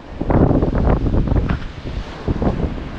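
Strong wind buffets the microphone at the seashore, gusting in loud, rough bursts over the rumble of surf, with no talking.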